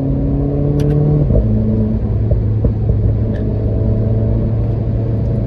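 A Renault Clio 4 RS engine drones steadily from inside the car during sporty driving, a loud constant hum with a brief pitch drop like a gear change, then holding a lower tone.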